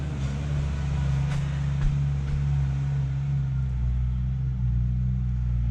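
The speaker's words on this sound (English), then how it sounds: "There's a bit of traffic today." Road traffic passing outside, a continuous heavy low rumble of passing vehicles with a few faint knocks, steady and moderately loud without speech.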